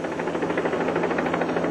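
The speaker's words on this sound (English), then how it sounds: "The CHP helicopter arrived at the scene within minutes." CHP helicopter arriving over a roadside accident scene, its steady rotor chop pulsing loud and continuous with a constant engine hum underneath, with no voices.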